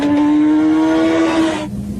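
A motorcycle engine accelerates out of a corner with a loud, rising, tonal drone that holds for over a second and then cuts off abruptly.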